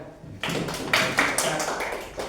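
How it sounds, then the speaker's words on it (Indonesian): Classroom audience clapping for a student's singing talent, a short burst of several hands coming in together, fairly close and moderately loud with a few stronger claps standing out. "Oke, tepuk tangan"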